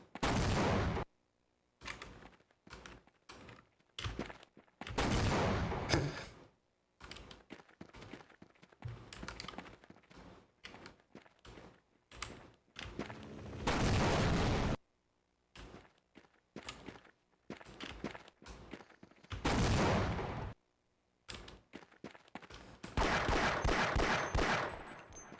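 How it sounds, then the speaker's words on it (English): Rockets and weapons firing in the Half-Life video game, a run of sharp broadband bursts with short silent gaps between them, loud and close, with no talk over them. "Why the hell is he shooting rockets at me?"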